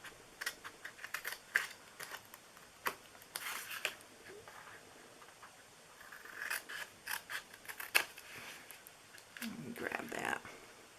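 Scissors snip through craft material for a DIY treat holder, quick close clicks in short bursts with pauses between, under quiet talk.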